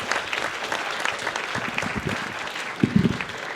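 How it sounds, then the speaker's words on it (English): A convention audience at BronyCon applauds, a dense, sustained clapping with a few louder claps and a faint cheer near the end. "Give yourselves a big round of applause"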